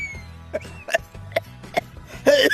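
Short cartoon coughs, four or five sharp bursts spaced about half a second apart over a low musical or hum bed, ending in a louder rougher fit, from a Tamil animated scene of a father coughing.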